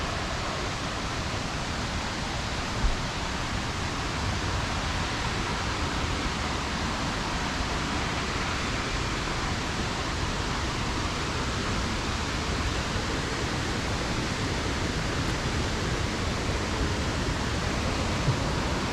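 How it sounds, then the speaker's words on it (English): Pistyll Rhaeadr waterfall roaring steadily close by, a dense, even rush of falling water that holds at a constant loud level throughout with no other sounds. "At the waterfall."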